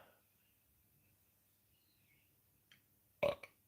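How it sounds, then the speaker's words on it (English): A single short burp from a man after eating a bakery pie, near and abrupt, rising out of a quiet background with faint bird chirps, plus a small click just before. "2 burps so far"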